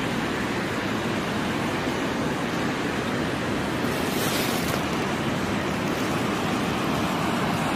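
Steady, dense roar of rushing water at Summerhill Force waterfall in County Durham fills the whole clip, loud and continuous, with no voices.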